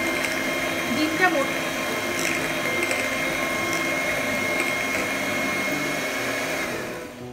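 An electric beater whisks eggs for cookie dough, its motor giving a steady, close, droning whir that holds level for several seconds before easing slightly at the end.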